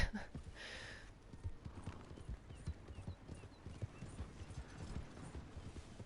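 Horse hooves clip-clop steadily in the video game Red Dead Online, a continuous rhythmic trot of soft thuds under faint ambient noise, with a brief whinny-like sound at the start.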